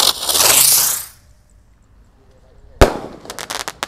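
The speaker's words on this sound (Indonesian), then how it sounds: "Ini meledosnya berputar lalu seperti Roman candle." Spinning firework that bursts like a Roman candle: a close, loud rising hiss and whoosh for about a second, a pause, then a sharp bang followed by a rapid volley of crackling pops.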